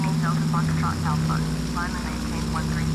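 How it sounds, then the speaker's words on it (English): Steady low drone of an old propeller airplane cruising in a flight video game, a constant engine hum throughout, with a person talking over it in short bursts. "I'm fairly sure that this is the type of airplane that James Bond flew in"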